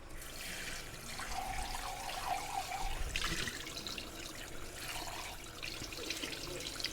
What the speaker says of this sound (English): I'm just gonna wash this real quick.